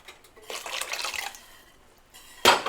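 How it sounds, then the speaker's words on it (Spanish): Water is poured into a pot while making champurrado. It comes as a short splashing pour, a pause, then a sharper, louder splash at the end, close and with no talking. "Ahora le vamos a agregar el agua porque este es de agua."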